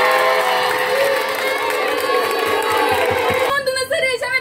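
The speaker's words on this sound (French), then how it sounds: "sous vos acclamations" Audience cheering and acclaim at a school debate as a student is introduced, a crowd of young voices shouting and cheering over lingering music, turning into scattered shouts near the end.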